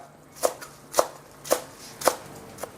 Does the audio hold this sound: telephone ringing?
no